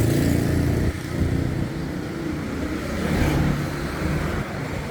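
Traffic roars along Sukhumvit Road in Bangkok, a dense, continuous wash of car and motorbike engines with occasional revving, heard from a nearby side street.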